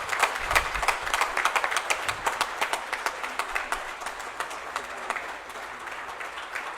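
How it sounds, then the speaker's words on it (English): Audience applause welcoming guests at a corporate conclave, a sustained wash of many hands clapping with dense irregular claps throughout, steady and moderately loud with no talk over it. "तालियों की गड़गड़ाहट जरा जोर से होनी चाहिए"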